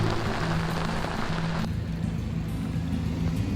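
Rain hammering down on a sailboat swinging at anchor, a loud continuous hiss of drops on deck and water that thins out and softens partway through, with no talking.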